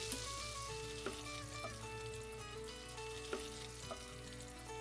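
Parsley stems fry in oil in a pan, giving a steady, close sizzle throughout with a few soft stirring clicks and no talking.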